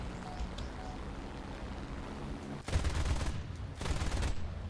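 Rapid 7.7 mm machine gun fire in the War Thunder video game, two sustained loud bursts of dense rattling shots over constant engine drone.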